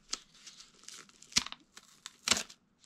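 Tissue paper is torn and crinkled while art prints are unboxed, with a few short bursts of ripping and rustling close up over a quiet background.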